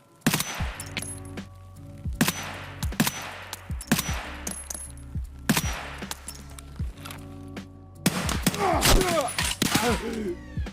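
Automatic rifle fire in Escape from Tarkov, loud close short bursts repeated about every second and a half, ending in a longer burst with ringing metallic casings clinking.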